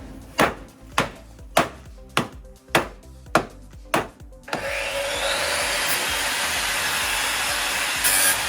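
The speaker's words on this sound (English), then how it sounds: "So drill some holes and bang it on." Eight sharp, evenly spaced metallic knocks on checker plate for a Volkswagen Golf off-road build, then a power drill starts and runs as a continuous, loud grinding whine, boring holes in the plate with no talk.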